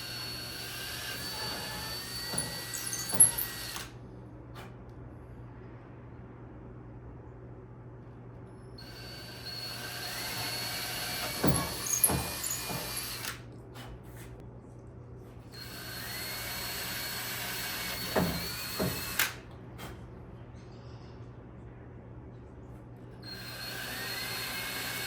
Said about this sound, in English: we're going to start with a 1/8 drill bit and kind of spot drill every one of these holes first